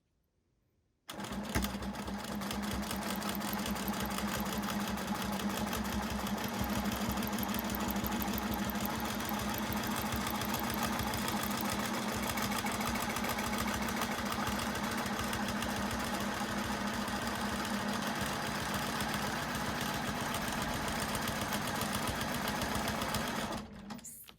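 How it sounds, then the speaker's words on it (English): A sewing machine quilts fabric guided by a Westalee Spin-e-Fex ruler, giving a steady, close mechanical whir that runs unbroken for over twenty seconds with no voices. "we're going to line up this registration mark on that line that we've already marked on the fabric, and we're going to start quilting"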